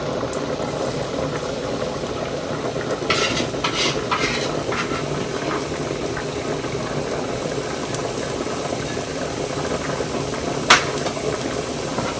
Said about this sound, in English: the oil is burning, it's already hot. So I will add my garlic in it.